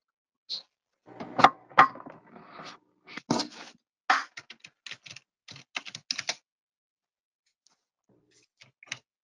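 Fingers tapping a computer keyboard at close range, irregular clusters of clicks spread over several seconds, then a long quiet stretch with a couple of faint taps near the end; no voices.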